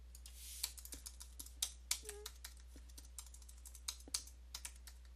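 A password typed on a computer keyboard: quick, close clicking keystrokes in an irregular rhythm, fairly quiet over a steady low hum.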